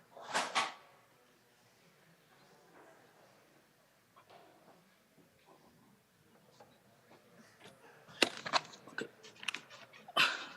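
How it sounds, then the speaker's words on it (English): Someone opening a door during an online conference call, with a sharp knock-like clatter at the start, quiet shuffling, then a flurry of louder clicks and bumps of handling near the end. "Do you need a minute to"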